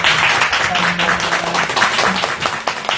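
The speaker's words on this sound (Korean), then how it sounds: "먼 길 와주신 두 분께 다시 한번 큰 박수 부탁드립니다." An audience at a university talk concert claps and applauds, a dense, loud patter of many hands sustained for a few seconds.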